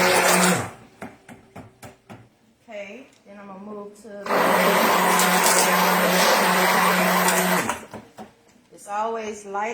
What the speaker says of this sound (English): So the first thing I'm gonna stick blend is the yellow.